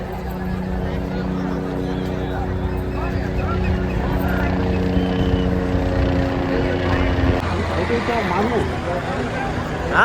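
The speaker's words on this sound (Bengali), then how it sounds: "উপর যত হেলিকপ্টার ঘুরে বেড়াচ্ছে" Steady droning rotor and engine noise from helicopters circling above the river confluence at the Maha Kumbh bathing site, continuous and fairly loud, with crowd murmur and nearby voices mixed in.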